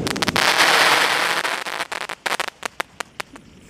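A Godzilla brand firework goes off outdoors, a dense loud crackling burst that thins into a string of sharp separate pops toward the end.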